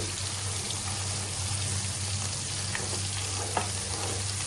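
Mustard oil with salt sizzles steadily in a wok, a loud continuous frying hiss with a few light stirring clinks, no voices.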